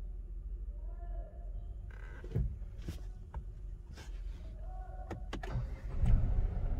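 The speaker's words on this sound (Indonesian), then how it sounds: "Kita coba aja starter." A 2021 Renault Triber RXZ AMT is started, with scattered clicks and button or switch sounds before the engine catches, then a low idle swelling toward the end, heard close from inside the car.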